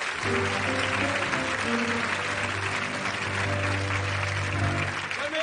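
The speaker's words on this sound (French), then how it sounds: "Ok, on l'applaudit." Applause from a TV studio audience at a French game show, dense steady clapping throughout with a low steady music tone running underneath.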